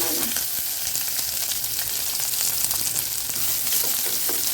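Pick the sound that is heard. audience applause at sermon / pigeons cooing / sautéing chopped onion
sautéing chopped onion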